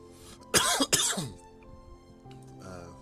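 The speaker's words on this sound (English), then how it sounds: "Pardon the cough." A person coughs twice in quick succession, close and loud, followed by a brief throat-clearing sound and quiet room tone.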